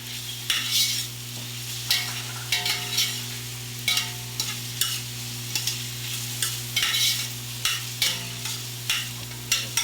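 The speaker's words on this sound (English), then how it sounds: "So we've got in here green onions and regular onions we're sauteing." Green onions and regular onions sauteing in a pan, a low steady sizzle under regular bursts of spoon stirring and scraping, close and loud, with no talking.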